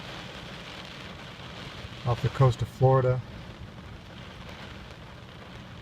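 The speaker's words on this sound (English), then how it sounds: "Just sitting here in the rain" Rain falls steadily on a parked Honda car, a constant soft hiss and patter heard from inside, with a brief spoken phrase breaking in midway.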